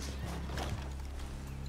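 Horses in the Red Dead Redemption 2 video game clop along in a short run of hoof beats, moderately close, set against a steady low rumble.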